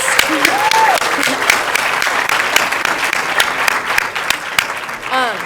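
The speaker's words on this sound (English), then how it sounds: "Let's have one more round of applause for all of the bright spots." An audience at a climate summit plenary session applauding, dense sustained clapping that fills the space at moderate loudness, with scattered voices and a brief whistle-like tone early on.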